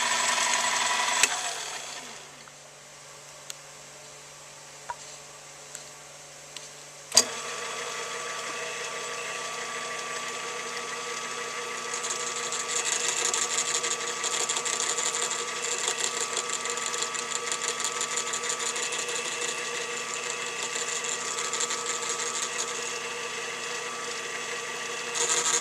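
A metal lathe or machine tool turning a cog belt wheel for a woodworking bandsaw on an arbor, a steady whirring run with a few clicks, then a sharp start into a continuous louder machining hum.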